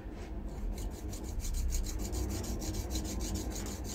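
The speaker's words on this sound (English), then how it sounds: "Just let the stone cut." A blade being worked on a sharpening stone after coarse-stone groundwork, with steady rhythmic rasping strokes, close and moderately loud, repeating evenly back and forth with no talk.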